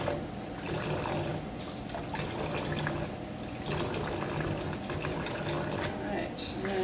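Tap water runs steadily into a sink while polycarbonate chocolate frames for ganache are washed at an angle, a continuous splashing hiss with a person talking over it.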